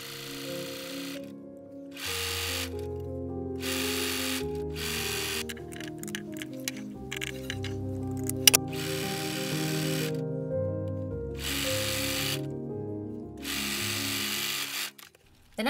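A sewing machine stitches French shoulder seams on a blouse for an 1860s outfit. The motor whirs in repeated runs of a second or two, separated by short pauses, over steady background music.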